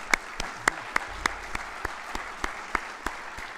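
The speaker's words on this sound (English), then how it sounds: "I think they deserve a round of applause, don't you?" Scattered, sparse claps from a small audience at a Northern Ireland heritage awards ceremony, with distinct individual hand claps ringing out at an uneven rhythm over a quiet room.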